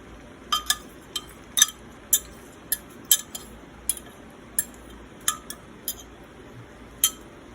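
A utensil stirring browned butter in a pan while cooking eggs: a series of sharp, close metallic clinks and taps at irregular intervals over a quiet background, without talk.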